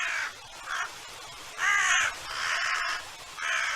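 Several crows caw in harsh bursts in a snowy wild landscape, some calls overlapping, fairly close and clear over quiet surroundings.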